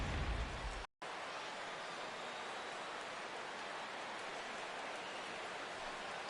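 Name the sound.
rain falling on the stadium in MLB The Show 16 video game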